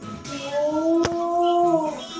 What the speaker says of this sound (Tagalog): Sorry kasi narinig niya aso namin.